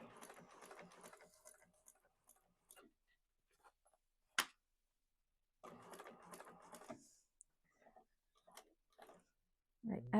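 A sewing machine runs in short bursts while top stitching around a quilt, with pauses and faint handling between runs.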